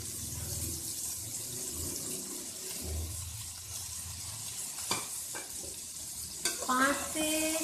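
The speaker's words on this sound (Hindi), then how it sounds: "पाँच से 7 मिनट फ्राई करेंगे हल्का सा, ये गोभी थोड़ी सी मुरझा जाए।" Chicken and cabbage frying in a pan with steady sizzling throughout, stirred now and then with scraping strokes and a few louder clanks of the utensil near the end.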